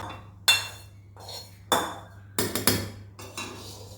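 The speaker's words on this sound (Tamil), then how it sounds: "நல்லா போட்டு கரண்டி போட்டு நல்லா மிக்ஸ் பண்ணி விடணும்." A ladle knocks and scrapes against a bowl while mixing bamboo rice batter, giving about five sharp clinks spaced unevenly over a few seconds, close and fairly clear with no talking.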